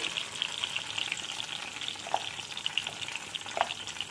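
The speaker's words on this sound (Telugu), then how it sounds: "ఇప్పుడు ఇదే నూనెలో మనం మిక్సీ పట్టుకున్న పేస్ట్ వేసుకొని వేయించుకోవాలి." A ground paste sizzles in hot oil for a dhaba-style mushroom curry, a close, continuous crackling hiss with a couple of brief stirring scrapes, no voices.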